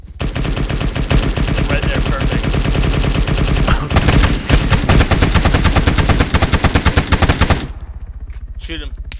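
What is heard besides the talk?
gunfire shooting at a landing helicopter in a video game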